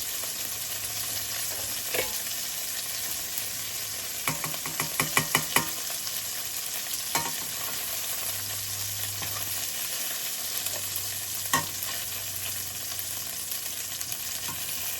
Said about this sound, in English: I'm going to go ahead and fire up the peanut oil